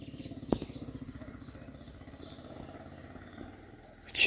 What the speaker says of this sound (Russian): В 4 утра мотоцикл.